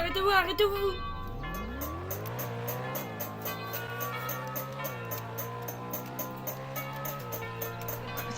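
A car in the Roblox game Emergency Hamburg, on a French NICE RP roleplay server, revs up and pulls away with a rising engine whine and a brief tire squeal. The engine holds steady and loud afterward while voices talk over it.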